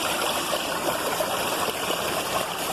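Steady, full-band rush of water pouring down the Similijhar waterfall at a hillside picnic spot, loud and close with no breaks or voices.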